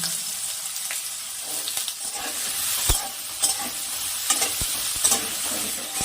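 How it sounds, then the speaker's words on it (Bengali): Chopped potatoes frying in hot oil with black cumin seeds in a wok for a fish curry, a steady close sizzle broken by occasional sharp pops and stirring scrapes. "এবার তেলের মধ্যে আলু কুচি দিয়ে দিলাম"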